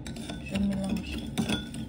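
Sugar and water stirred with a spoon in a bowl, giving soft clinks and light scraping against the side in a short, close burst, with little else around it.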